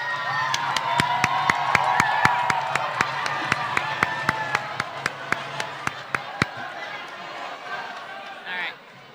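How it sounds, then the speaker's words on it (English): Audience at a sophomore academic awards ceremony, with steady, evenly spaced claps ringing out over a murmur of crowd noise for several seconds before stopping. "Have them clap for themselves."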